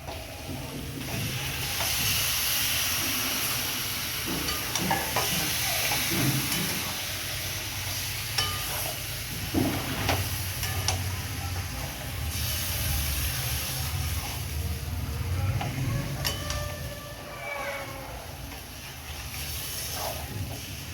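Chicken pieces go into spiced masala in a hot pan and are fried while being stirred, giving a steady close hiss and sizzle with intermittent scraping stir sounds throughout, no talking.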